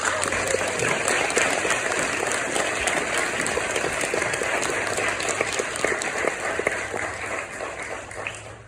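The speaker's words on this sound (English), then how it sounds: "I'd like to give them a round of applause" Audience applause at an MLK Day 2023 NAACP church event, dense steady clapping from a full room that holds for several seconds and slowly thins toward the end.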